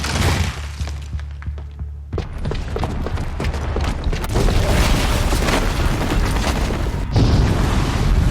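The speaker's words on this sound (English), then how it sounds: "the booby trap on the bomb downstairs is gonna get set off" A bomb booby trap going off in Horizon Zero Dawn: a loud burst, then repeated crashing booms and shattering debris rolling on for several seconds, swelling again near the end.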